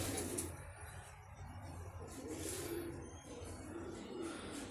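Soft, low cooing from coop pigeons that have been fed almonds rises in short bursts over a steady wash of outdoor noise, lasting several seconds with no speech.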